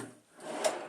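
A hotel room drawer slides open or shut in one short scraping rub that ends in a soft knock, close and alone.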